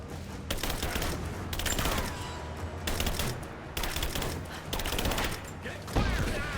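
Automatic gunfire in the Tomb Raider remake rattles out in several rapid, loud bursts, each a few seconds long, separated by short pauses and mixed with faint game sounds.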